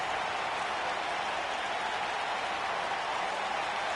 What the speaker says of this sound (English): it sounds to me like this crowd already picked the one who they want to win this match